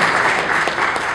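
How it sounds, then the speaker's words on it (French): Dense, steady applause fills a hall during the official launch of a software product, a brief continuous wash of many hands clapping. "Applaudissez très très fort, s'il vous plaît."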